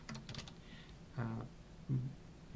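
Computer keyboard typing during hex editing of a game binary: a few quick key taps near the start, then scattered short clicks and soft thuds, close and fairly quiet, with no talking.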